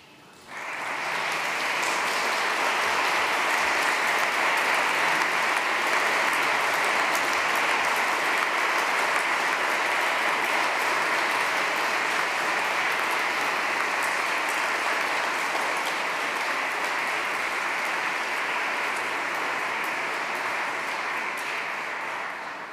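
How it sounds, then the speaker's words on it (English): Sustained applause from the audience at a 2021 graduation and presentation ceremony, a dense, even wash of clapping that rises quickly, holds steady and loud for about twenty seconds, then begins to taper. "show your appreciation to everyone who is here for you today, supporting you by giving them a round of applause"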